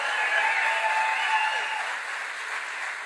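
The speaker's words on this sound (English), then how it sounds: "Give a round of applause for Bobby Charles." An audience at a political event at a military armor manufacturer in Maine claps in sustained, dense applause that stays fairly loud and slowly eases off.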